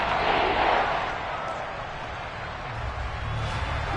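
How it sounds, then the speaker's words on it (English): Stadium crowd in a Madden football video game roars steadily in a broad wash of cheering, swelling loudest at first then holding a sustained din, with low rumbling underneath. "the crowd getting into it as we come up on a big third down"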